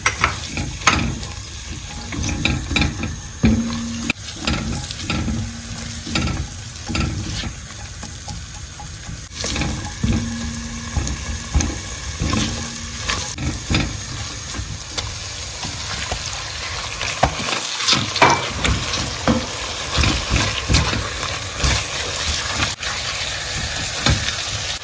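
Chopped onions fry in olive oil and butter in a pan, giving a loud, continuous close-up sizzle with frequent scraping and stirring clatter and occasional louder crackles throughout.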